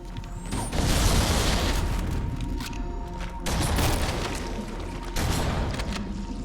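Explosions boom in the Halo CE Anniversary game, three heavy blasts spaced a couple of seconds apart, each a loud close burst that decays into rumbling debris over a constant mechanical background hum.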